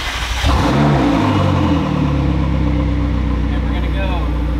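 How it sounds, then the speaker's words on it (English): A McLaren 650S engine cranks and fires, catching with a sharp rising rev and then settling into a loud, steady, deep idle close by, with no talk over it. "So let's get the car started."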